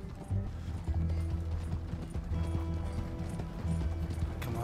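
Horse hooves clip-clopping at a steady gallop while chasing a stagecoach in Red Dead Redemption 2, loud and continuous with rattling tack and coach mechanisms under the rhythmic beat.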